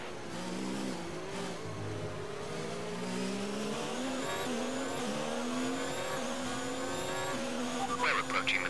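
Race car engines scream in the F1 2019 video game at the Belgian Grand Prix. Loud, sustained engine notes rise and shift with gear changes, and a burst of tire noise comes near the end.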